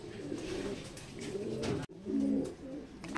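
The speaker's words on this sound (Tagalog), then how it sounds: "Itong umuwi, dalawa lang naman sila mga kalapatids." Racing pigeons coo at a loft after a derby race, with soft, low rounded coos close by, a brief break, then another clear coo phrase against quiet background.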